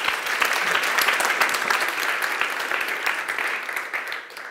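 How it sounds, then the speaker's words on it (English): A meetup audience at a deep learning talk in Vienna applauds a speaker. The clapping is dense and steady, with many hands at close to middle distance, holding at an even level for several seconds and easing slightly near the end. "big applause for Yufeng."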